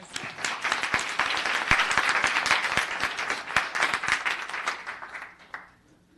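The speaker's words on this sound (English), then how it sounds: "Let's give her a round of applause." An audience at a town council meeting applauds. The clapping is dense and sustained and comes from many hands in an indoor hall. It continues for several seconds and then tapers off into quiet.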